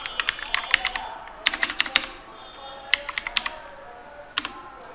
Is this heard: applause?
no